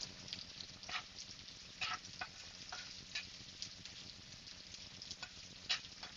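Potatoes frying in a pan with onions already browned, a steady close sizzle with scattered crackles and a few soft stirring scrapes, no talking.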